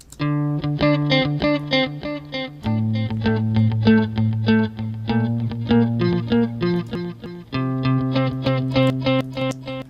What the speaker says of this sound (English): With a little bit of feedback to get that kind of echoing sound.